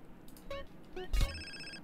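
A telephone rings inside a video game, sounding as two short electronic bell trills close together, followed by a thump and a brief lingering tone, with no talking.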